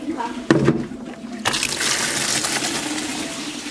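Water pours into a bucket while preparing feed for bees, a short splash then a steady rushing gush filling the container, close and moderately loud, with people talking around it.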